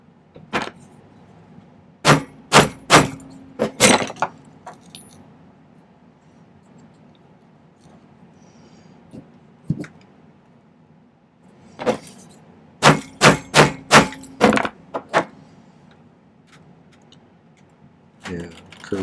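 A hammer strikes a big punch to shape a small silver bell, giving sharp metallic blows in two bursts of rapid strikes separated by a quiet pause, with one isolated hit in between.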